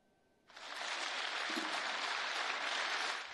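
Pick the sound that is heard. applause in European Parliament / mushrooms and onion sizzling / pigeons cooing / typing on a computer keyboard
applause in European Parliament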